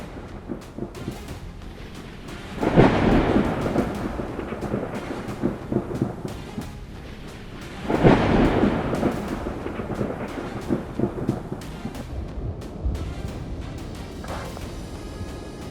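Two heavy thunder crashes roll through a thunderstorm with lightning and steady rain, each a loud sudden boom that rumbles off over several seconds, with no voices.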